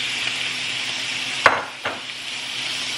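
Shrimp sizzle in a pan for fried rice, a steady loud hiss with two brief knocks of a utensil partway through.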